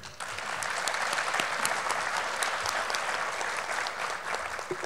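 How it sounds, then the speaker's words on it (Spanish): Steady applause from a seated audience at the closing ceremony of an international labour conference, a continuous dense clapping that swells in and holds at moderate distance without voices. "Y un fortísimo aplauso para la directora de OIT Sinterfor, Anne Carolyn Póstuma."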